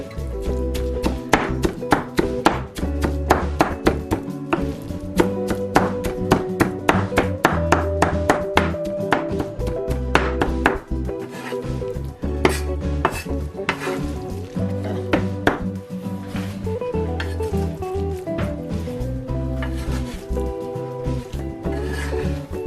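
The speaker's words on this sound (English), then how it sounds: "After adding a small bowl of chopped green onions and soaked dried shiitake mushrooms, cut them up more to blend the flavors together." A knife chops green onions and soaked dried shiitake mushrooms on a board in a steady run of quick, sharp taps, close and loud, with a musical backing running underneath.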